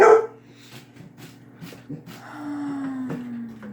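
A sharp dog bark rings out up close indoors in a kitchen, followed by quieter soft yips and a low whine-like tone, with faint background noise, as celery is being cut.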